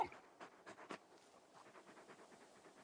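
In the video game Final Fantasy XVI a large dog pants in quick, rhythmic breathy puffs, faint and close, with no voices.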